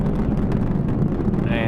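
An Atlas V rocket with its RD-180 engine roars during the MAVEN launch, a loud, steady, broadband rumble that stays constant throughout.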